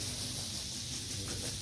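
A carpet cleaning machine sprays LST cleaner onto a large Karistan area rug, giving a steady, loud, unbroken hiss that fills the short stretch.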